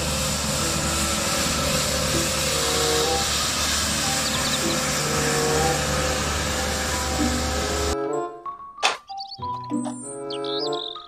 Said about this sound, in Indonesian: Mobil truk pembersih jalan.